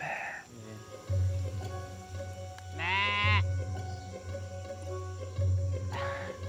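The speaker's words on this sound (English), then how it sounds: "I think that's a sheep. I don't think that's a goat." Sheep bleat on an island, two loud nasal bleats rising clearly above a steady low drone, with a fainter call opening the stretch.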